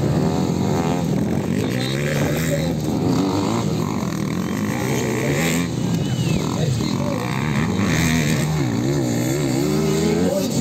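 Motorcycles racing on a dirt track with many curves at the MRF championship, engines droning and revving steadily throughout, loud and continuous, with voices mixed in.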